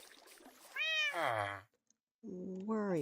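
A cat meows twice, close by, the first call long and wavering, the second after a short silence, with faint background noise and no other voices.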